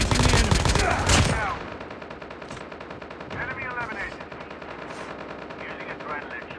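Rapid machine gun bursts in Call of Duty Mobile on the Alcatraz map, a dense loud volley at the start fading into scattered distant shots and clatter under game effects.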